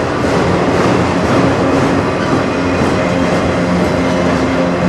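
CN manifest freight train, led by locomotives 5779 and 3942, rolls past in Sarnia, Ontario, a steady loud rumble of wheels and railcars that holds level throughout with no voices.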